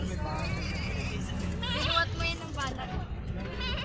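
Goats bleat repeatedly over a steady background hum during a family outing in Batangas, with people chattering nearby and several overlapping calls standing out in the middle.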